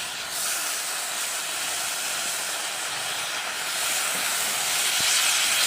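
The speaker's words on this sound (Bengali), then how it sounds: "শাকগুলো দিয়ে ভালো করে নাড়তে থাকবো।" Greens stir-frying in a hot pan, a loud, steady hissing sizzle that runs continuously, with a slight rise in intensity near the end and a soft knock of the utensil.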